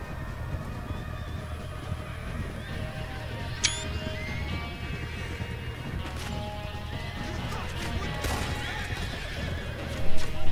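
Horses whinny and neigh in the video game Red Dead Redemption 2, with clip-clopping hooves and a brief crash during a group ride, loud and close over steady game background noise.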